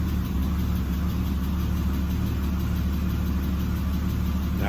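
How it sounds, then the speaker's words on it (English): A BMW E36 with an M50 engine and eBay shorty headers idles steadily and close by, with a faint slight knock. The low, even rumble holds without revving and no one speaks. "it sounds like there's a slight knock"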